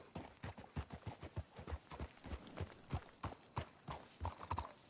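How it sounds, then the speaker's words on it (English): Horse hooves clip-clop in the Red Dead Redemption 2 video game, a close, even rhythm of repeated footfalls at a walking pace, heard alone without talk. "Let's hitch the horses up ahead."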